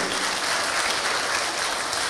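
A large crowd at the closing ceremony of the Porunai literary festival breaks into steady, dense applause, loud and continuous throughout with no pause.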